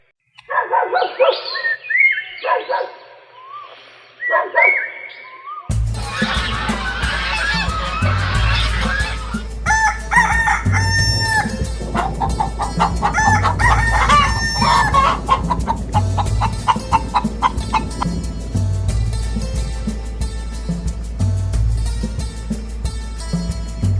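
Cartoon chickens cluck and a rooster crows repeatedly among other fowl and geese honking, loud and close, with a low steady hum beneath.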